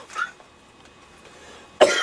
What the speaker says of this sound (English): I'm going to take 2 seconds to cough.